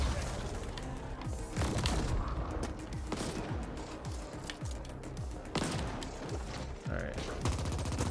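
Enemies fire weapons in the twin-stick cyberpunk shooter game The Ascent, with dense rapid bursts of gunfire and booming impacts going off continuously at close range, layered over game sounds.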